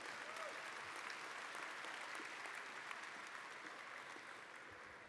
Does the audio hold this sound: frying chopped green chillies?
no